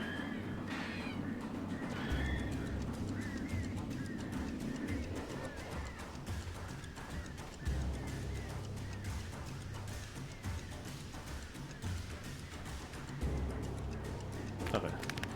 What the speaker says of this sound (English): Birds. Yes, they're birds.